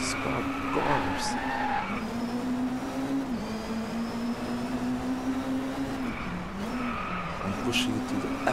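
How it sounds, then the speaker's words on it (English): A race car pushed to the limit in Driveclub, engine droning loud and steady with pitch rising and dipping through gear shifts and bursts of tyre skid, while someone talks over it. "I'm pushing it to the absolute limit."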